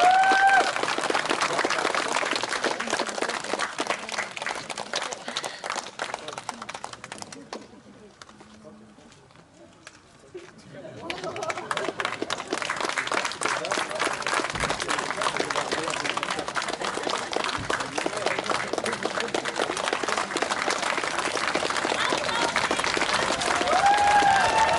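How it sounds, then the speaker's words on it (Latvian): An outdoor crowd at a seaside Neptune festival concert applauds in a long, dense clatter of clapping that dips briefly in the middle and then swells back to a sustained roar. "Aplausi!"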